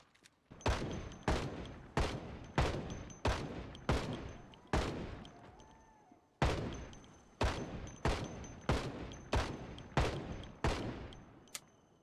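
Single shots from an M14 rifle in a zombie video game fire in a steady, evenly spaced rhythm, loud and sharp, with one short pause partway through and no talking over them.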